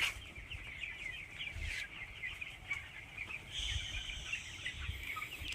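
Seventeen-day-old broiler chickens in a poultry shed, a dense continuous chorus of chirping and clucking from many birds, steady and moderately loud with a few louder peaks throughout.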